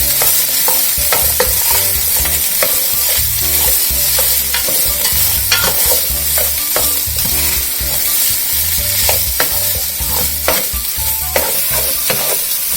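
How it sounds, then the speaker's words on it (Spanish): A smoked pork chop fries in a pan with onions: a loud, continuous sizzle with repeated stirring and scraping throughout, and no talking. "Le vamos a agregar la chuleta."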